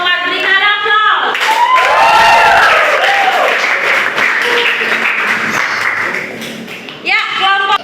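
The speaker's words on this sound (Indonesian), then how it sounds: "nah itulah hasil presentasi kelompok 4. Berikan aplaus" A class audience applauds after a group's presentation on an automotive observation text, with steady clapping running for several seconds as voices talk over the start and end.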